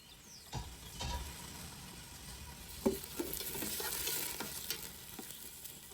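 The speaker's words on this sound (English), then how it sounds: "Into that, I'm adding 2 sliced onions and sautéing them until they turn soft and translucent" Two sliced onions sauté in hot oil in a large pot, giving a quiet, steady sizzle broken by occasional scrapes and knocks of a stirring spoon.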